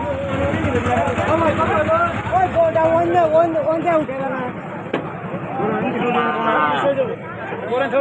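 A busy cattle market full of cows, with a loud mooing call and lowing among a crowd of people talking and shouting close by.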